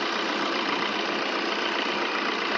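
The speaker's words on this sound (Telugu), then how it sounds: "వెహికల్ రన్నింగ్లో ఉంది, ఇంజన్ రన్నింగ్లో ఉంది" A 2018 Maruti Baleno Alpha diesel engine idles at close range, a steady, even rumble that holds without change throughout, with no voices over it.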